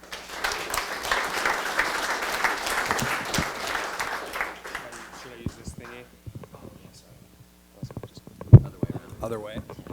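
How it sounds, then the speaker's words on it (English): Audience applause at a tech talk fills the first few seconds, dense and steady, then fades into scattered handling noises, a thump, and someone talking. "please welcome him with a round of applause"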